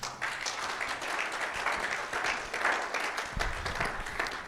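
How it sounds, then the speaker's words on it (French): A church congregation applauds, a dense, steady patter of many hands clapping together at moderate distance. It continues for a few seconds with no voice over it. "Acclame pour toi-même"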